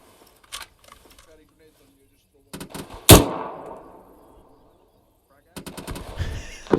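Simulated gunfire during an infantry section attack in the military game Arma 3, several brief bursts and one loud sharp shot with a rolling echo, while voices talk over radio and nearby.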